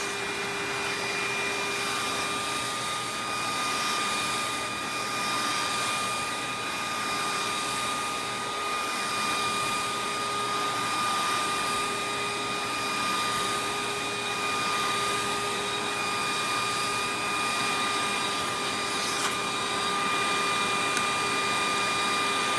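Rainbow E2 single speed canister vacuum running, a loud, even motor whine with steady tonal hums held close and unchanging throughout.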